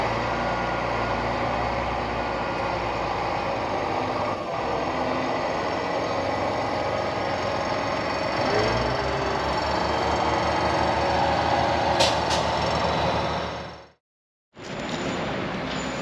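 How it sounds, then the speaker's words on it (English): A French SNCF diesel train passes close by at night in Brittany, a steady loud rumbling engine drone that runs for about fourteen seconds and cuts off abruptly before resuming briefly. "It was part of the SNCF railway system and we had a diesel train behind us."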